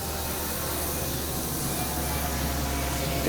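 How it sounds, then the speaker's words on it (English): A burger patty sizzles on a hot grill, giving a steady, close broadband hiss that holds evenly throughout with no clear speech over it. "So we're putting the first patty on. Got a little sizzling."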